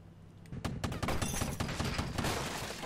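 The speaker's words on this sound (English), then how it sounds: "Let's just shoot right through this box" Shots in the video game Silent Storm tear through an explosive box: a quiet start, then a sudden loud fusillade of cracks and breaking debris that rattles on in dense bursts.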